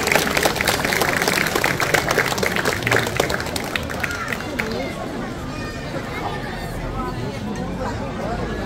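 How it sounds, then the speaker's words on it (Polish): Applause from a concert audience after a wind orchestra performance, with dense clapping that fades into crowd murmur and chatter. "wielkie brawa"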